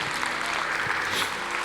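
Congregation applauding during a church service, a steady broadband patter of many hands sustained evenly at moderate level from start to end, with faint voices mixed underneath.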